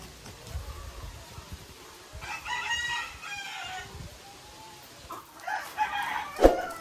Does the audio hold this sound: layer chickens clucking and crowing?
yes